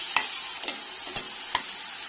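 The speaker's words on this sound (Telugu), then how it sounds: "రొయ్యల్ని ఒక 4 మినిట్స్ వరకు ఫ్రై చేసుకోవాలి. సిమ్లో పెట్టుకొని ఫ్రై చేసుకోవాలి." Dried shrimp fry on a low flame in a pan under a soft, constant sizzle, with four sharp spatula taps spaced across the stretch.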